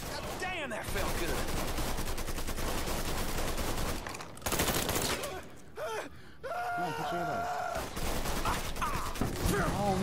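Loud, dense gunfire in the open-world crime game Mafia 3, with rapid automatic bursts mixed with gasps and groans and brief pauses between volleys.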